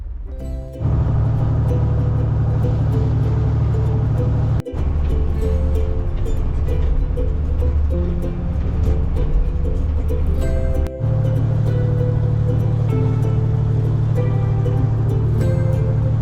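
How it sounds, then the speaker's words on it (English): A commercial fishing boat's engine runs steadily in reverse while the anchor is let out in Southeast Alaska, a loud constant hum broken by two brief cuts, with faint clatter over it. "I'm setting the anchor by having my wife back down in reverse as I let the anchor loose."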